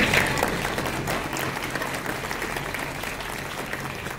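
A poetry-recital audience claps steadily throughout, with dense, even hand-clapping that fades slightly toward the end, with no voices over it.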